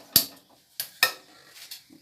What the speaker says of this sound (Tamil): குக்கரை வச்சுக்கலாம்.